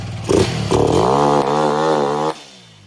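A Honda XR150 motorcycle engine running too lean on a dyno revs hard in a few loud bursts, holding a high roaring pitch before cutting off abruptly.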